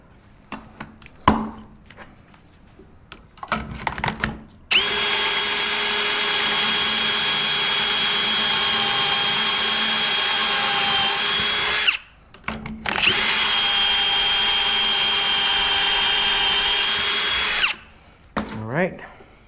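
A power drill bores pocket holes in wood in two long sustained whining runs separated by a short gap, with softer handling clicks and knocks before and after, all loud and close.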